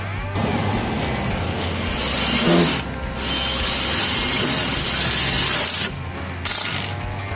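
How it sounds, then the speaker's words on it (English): A power drill whirs steadily for several seconds, with a bright high whine and grinding as the screw bites into a metal bar, briefly dropping off and resuming near the end. "get the first drill screw placed into the bar"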